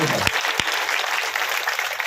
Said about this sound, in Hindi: एक बार सबके लिए जोरदार ताली बजनी चाहिए